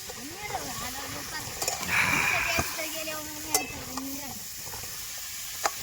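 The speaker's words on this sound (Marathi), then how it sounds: "त्या मटेरियल मध्ये मटण टाकलंय बरं का आणि हे परतायचं नियोजन चाललंय" Mutton sautéed in a spice mixture, a soft sizzle with occasional stirring scrapes and a few sharp utensil taps, close and moderate, under a voice talking.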